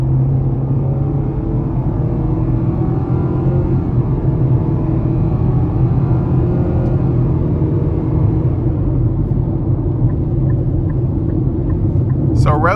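Interior of a 2025 Nissan Kicks S AWD with a naturally aspirated four-cylinder, engine droning steadily under acceleration as a continuous low rumble with road noise, loud and close throughout.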